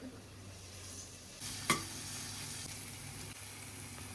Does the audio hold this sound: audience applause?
no